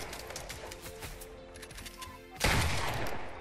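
Rapid gunfire from the video game Fortnite crackles in quick bursts, moderately loud, with a heavier, louder volley near the end.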